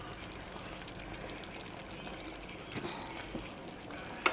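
Water poured into a simmering taro chicken curry in a pot, a faint, soft, continuous pour under a low background hiss, with a couple of small clinks near the end and no speech.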